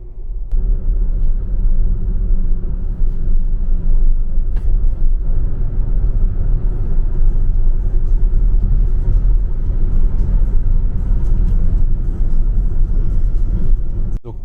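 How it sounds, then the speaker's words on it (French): Interior road noise from an Audi Q4 e-tron electric four-wheel-drive SUV on 20-inch wheels with winter tyres: a constant low tyre rumble and hum while cruising, steady and unbroken with no talking. "on est en jante de 20 pouces avec des pneus hiver, donc c'est un petit peu plus bruyant"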